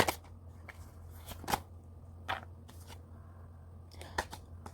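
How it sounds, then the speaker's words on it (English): A deck of cards is shuffled in several quick riffling bursts, close and crisp with brief pauses between, over a quiet background hum. "When I get consecutiveness like that, I want to make sure this card is shuffled."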